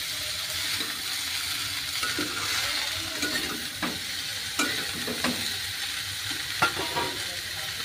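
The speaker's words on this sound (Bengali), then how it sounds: "এবারে কুচি করা আলু এবং লাউটা আমি দিয়ে দেবো। দিয়ে খুব ভালো করে মিশিয়ে নেব।" Chopped potato and bottle gourd are stirred into mung dal cooking in a pan, giving a continuous soft sizzle broken by irregular spoon scrapes and clacks against the pan, with no talking.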